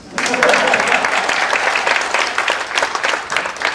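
Audience at a public lecture breaking into sustained clapping, a dense, fairly loud patter of many hands that holds steady throughout.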